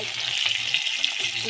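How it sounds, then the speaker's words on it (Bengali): Green chillies and onion sizzle in hot oil in a kadai, a steady hissing fry heard close up and fairly quiet with a faint scrape of stirring. "এই যে কড়াইটা গরম হয়ে গেছে, তেলটাও তেতে গেছে, এবার একে একে সব দিয়ে দিচ্ছি"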